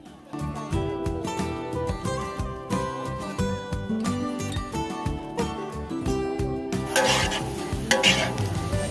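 Fried shallots are stirred in a pan over a wood fire, giving repeated rhythmic scraping and clinking strokes over a steady frying sizzle. A brighter burst of sizzle rises near the end, and no voices are heard.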